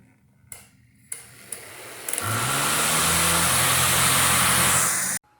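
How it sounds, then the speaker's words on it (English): A DC motor spins a large centrifugal impeller under heavy load. A few sharp clicks come first, then a loud, steady rushing whir rises quickly and holds for about three seconds before stopping abruptly. "With the larger centrifugal impeller, this motor's under heavy load."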